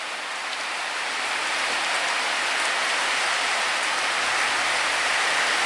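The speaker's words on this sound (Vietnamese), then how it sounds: "Mưa dông quá rồi." Heavy thunderstorm rain from a typhoon pouring down steadily, a dense continuous hiss of drops on surfaces with no voices.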